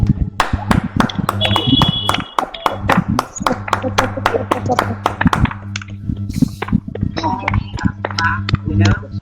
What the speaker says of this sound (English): we are going to give Mr. Francis another round of applause